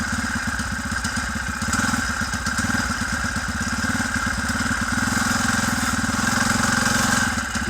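A moped engine with a freshly cleaned carburetor runs steadily at a close, even idle, its rapid putter holding level with a slight rise in revs toward the end.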